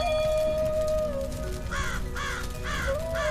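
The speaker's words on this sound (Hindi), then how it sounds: "अचानक टुनटुनी चिड़िया को एक कौवे की आवाज आती है।" Crow caws in a Hindi cartoon about a little bird in a quiet forest: three harsh, evenly spaced caws rise late in the clip over a thin sustained musical tone and a low background bed.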